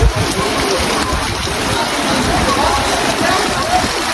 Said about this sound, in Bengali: নোয়াখালীর বিভিন্ন অঞ্চলে প্রচুর বৃষ্টি হচ্ছে।